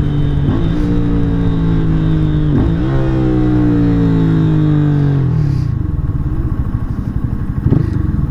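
A Lifan KPR 200 motorcycle engine revs up close and loud, its pitch climbing through repeated rises before dropping off as the throttle closes, with a thump near the end.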